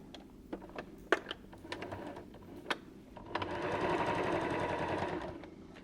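Sharp clicks and taps from handling a fabric basket at the sewing machine come first, followed by a few seconds of quiet, steady stitching.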